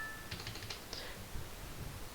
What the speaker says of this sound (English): just by pressing a Ctrl key on your keyboard